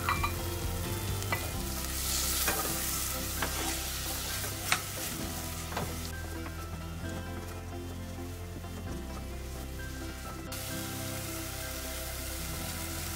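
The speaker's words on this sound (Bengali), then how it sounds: "একসাথে কুক করে নিই আমি বিফ ও টমেটোকে।" Beef and chopped tomato cook together with spices in a pan under a steady, dense sizzle. Occasional scrapes and taps of a stirring spoon break through it, with a low hum running underneath.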